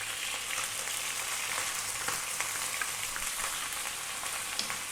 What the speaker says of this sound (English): We're now going to drop in our onion.